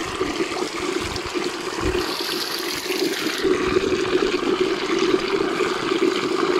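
Cold mountain stream water flows strongly at Sitio Kilat, San Gabriel, La Union, a dense continuous rushing and splashing heard close up and steady throughout, with no voices.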